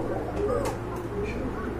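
Pigeons coo softly in a dealer's loft, with low warbling calls repeating under a steady background hum and faint room noise.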